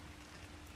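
Steady rain falls in the survival game ARK, a dense, even hiss of drops on surfaces running without a break for under a second, with no voices.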